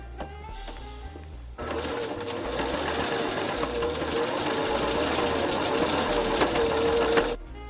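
A sewing machine stitches closed the opening in homemade fleece pants, starting after a brief quieter lead-in and running as a fast, steady mechanical rattle for several seconds before stopping.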